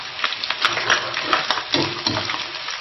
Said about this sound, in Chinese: 把它炒香